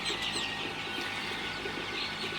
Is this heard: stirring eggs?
no